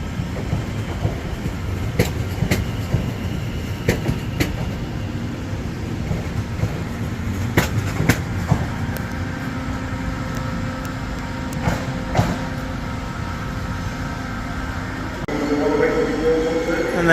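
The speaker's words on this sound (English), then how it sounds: "over there departing now will be 730-031 off to Four Oaks" A Class 730 electric multiple unit pulls out of Birmingham New Street station, giving a steady low rumble and hum that builds near the end, with station ambience and occasional clanks around it.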